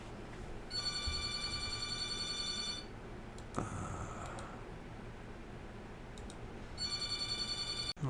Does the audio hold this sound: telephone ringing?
yes